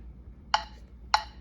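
Two crisp, evenly spaced metronome clicks mark eighth notes for an easy Canon in D practice, each a short bright tick standing alone over quiet background.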